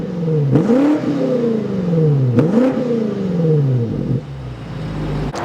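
A 2023 BMW X5M Competition's 617 hp engine revs hard twice, each burst rising then falling through a throaty exhaust, before settling into a lower idle burble.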